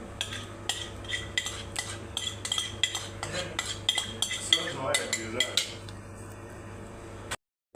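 Utensils stir and toss a salad with dressing, giving a steady series of close metallic clinks and scrapes against a dish, quiet and irregular, with no talking.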